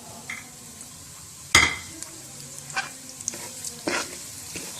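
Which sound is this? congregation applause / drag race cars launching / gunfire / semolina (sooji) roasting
semolina (sooji) roasting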